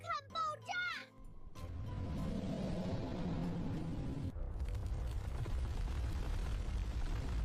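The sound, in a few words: explosion sound effect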